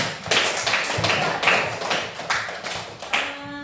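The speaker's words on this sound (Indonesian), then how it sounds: "tepuk tangan untuk Alfi" Pupils in an elementary classroom clap for a classmate, a burst of uneven, rhythmic hand claps and taps, fairly loud and close, with a faint tone lingering at the end.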